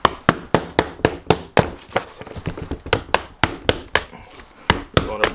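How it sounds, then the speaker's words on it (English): A small hammer taps a plastic trim tool to break loose glue on a Volkswagen MKV GTI door upholstery panel, giving sharp, rapid knocks in uneven bursts, close and fairly loud. "It's nice to use like a little piece of plastic trim tool, and then just use a little hammer to break it loose."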